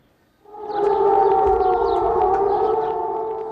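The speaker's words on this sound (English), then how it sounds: "But if the siren was meant to clear the streets of Baghdad" An air raid siren in Baghdad in 2003, at the start of the invasion of Iraq, rises quickly and holds a steady, loud, sustained tone with slight wavering, sounding from some distance across open space.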